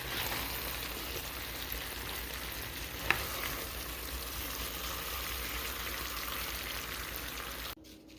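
Meatballs topped with cheese being stirred in a pan, a soft continuous sizzle with gentle stirring scrapes and one small clink, fairly quiet and cutting off abruptly near the end.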